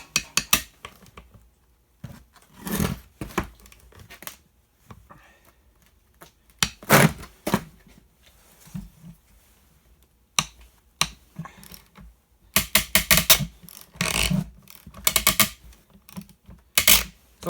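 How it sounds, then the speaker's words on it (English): A spring spinning with the nut on a Ford truck vent window during a rebuild gives off sharp clicking and ratcheting bursts, close and loud, in irregular clusters separated by quiet gaps. "the spring is spinning with the nut, and that's why you're hearing the noise"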